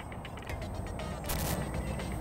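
Wheel of a compact pipe crawler transporter being set onto its mount, giving a few quiet mechanical clicks and a short ratcheting snap as it locks into place, close and faint.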